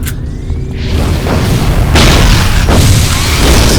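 A web grenade bursts in City of Heroes, a deep booming blast that swells and lingers over a steady rumble, loud and close.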